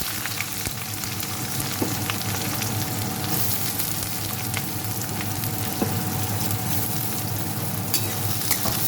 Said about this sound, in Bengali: পেঁয়াজটা নেড়ে চেড়ে একটু লাল লাল করে ভেজে নেব।